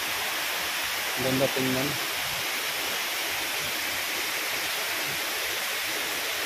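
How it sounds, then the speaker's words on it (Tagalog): Water flows steadily from a fountain-like waterfall in Doha, Qatar, a constant broadband rush, loud and close, with a brief spoken remark over it. "Ganda ng agos ng tubig."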